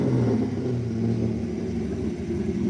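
A Fox body Mustang and a Corvette rumble at a drag strip with a deep, steady engine roar, heard from some distance and continuous without any clear revving peak.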